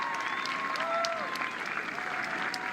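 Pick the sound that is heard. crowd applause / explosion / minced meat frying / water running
crowd applause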